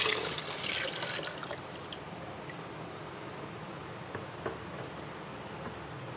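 A sugar-and-water mixture for mango lemonade is poured into a blender, a splashing pour loudest at first that settles into a softer trickle and fades.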